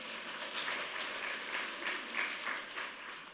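A Korean church congregation claps during a sermon, a moderate, steady patter of many hands heard somewhat distantly, with no voices over it.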